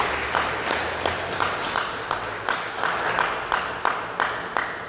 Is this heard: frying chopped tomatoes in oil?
no